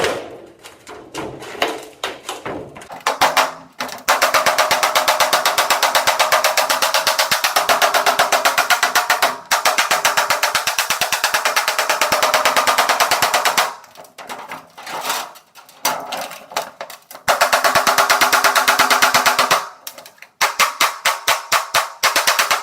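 Sheet metal for a homemade river sluice is struck with a hammer in long runs of rapid, sharp, ringing blows, broken by short pauses and a few scattered single hits.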